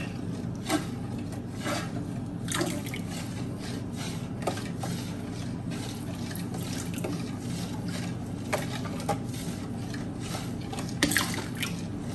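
A large batch of liquid gel laundry soap with oud is stirred by hand: soft, irregular sloshing and squishy scrapes recur every second or so over a steady low background hum.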